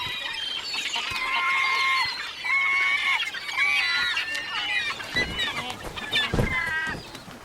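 Eagles call and squabble over food on thick sea ice in Hokkaido, a loud, continuous chorus of harsh, overlapping yelps and chatter.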